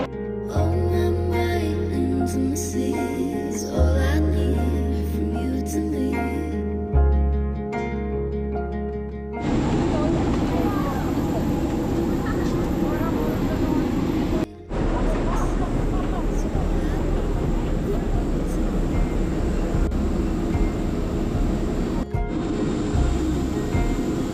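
A few seconds of music, then the continuous broadband roar of an Air Serbia airplane cabin at Tirana, steady and fairly loud, with faint murmuring voices.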